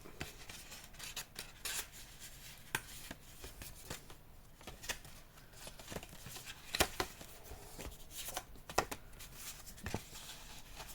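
Cardboard cards slid out of a handmade mini album with Japanese binding, making soft scraping, rubbing and papery shuffling sounds with scattered light taps, close and quiet with no voices.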